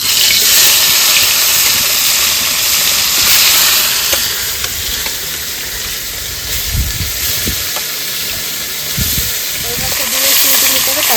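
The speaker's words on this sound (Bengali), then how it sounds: "কড়া গরম হয়ে গেছে সর্ষের তেল দিয়ে দেবো মাছগুলো ভেজে নেবো" Fish fry in hot mustard oil in a pan, giving a loud, steady hiss and sizzle with occasional low thumps and clatter from handling. The fish is koi, cooked village style with whole fried spices.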